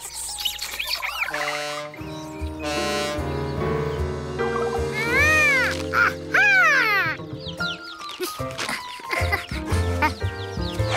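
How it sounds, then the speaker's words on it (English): Cartoon chickens clucking and squawking in agitated, rising calls over a bright, busy music score from a children's animated show about a monkey rescuing six chicks. "That sounded like a chicken in trouble."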